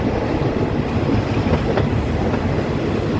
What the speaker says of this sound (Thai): ตอนนี้รถก็กำลังจะเข้าจอดนะครับสถานีมวกเหล็ก